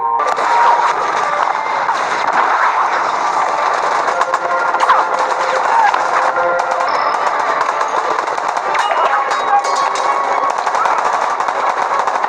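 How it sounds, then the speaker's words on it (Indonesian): Rapid gunfire in a film battle as an armed squad storms a ninja hideout, dense continuous bursts of automatic shots with chaotic clatter, loud throughout. "pasukan lengkap yang langsung menggempur markas itu dengan tembakan"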